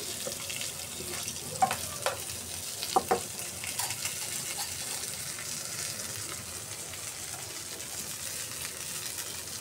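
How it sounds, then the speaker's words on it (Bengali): Fish frying in a pan for a home-cooked lunch of fish with snake gourd and potato, a soft continuous sizzle with a few sharp pops and clatters early on, fairly quiet and close, no voices. "আমার মাছ ভাজিটা অলমোস্ট ডান"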